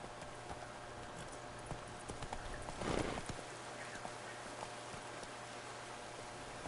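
Hooves clip-clop quietly from a horse in The Witcher 3: Blood and Wine, a faint, even trot over soft ambient noise, with one brief louder burst of movement midway and no voices.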